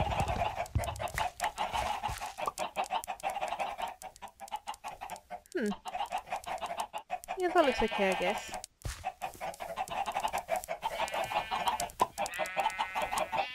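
Minecraft chickens clucking and squawking in short bursts at moderate distance in the game, while someone talks over them for most of the stretch.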